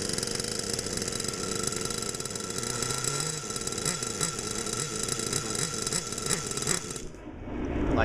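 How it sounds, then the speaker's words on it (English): Small nitro RC car engine running close by, a buzzy idle with rattling that rises and bogs as the throttle is blipped, cutting off abruptly near the end. "So I'm gonna start it up again. I want you to pay attention to when I gas it"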